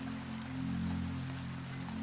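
Steady soft rain patters on glass, a roof and leaves, a continuous even hush with a low constant hum beneath, no voices.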